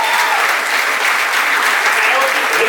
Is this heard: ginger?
no